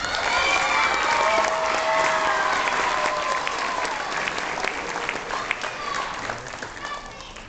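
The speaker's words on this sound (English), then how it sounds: "Ladies and gentlemen, a warm applause for Mia Zhang." An audience at the Miss Asia Sacramento pageant applauds as contestant Mia Zhang is called on stage, with dense, sustained clapping and some cheering that gradually thins toward the end while voices carry faintly underneath.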